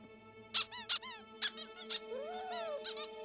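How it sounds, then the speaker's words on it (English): A rubber squeaky toy in a Peter Rabbit cartoon squeaks in a quick series of sharp, bright chirps, close and fairly loud, with a longer drawn squeak near the end and no talking. "I'm not your squeaky toy!"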